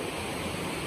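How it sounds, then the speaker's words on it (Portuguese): A waterfall along a family hiking trail gives a steady, dense rush of falling water, broad and unbroken throughout with no voices. "E olha essa cachoeira."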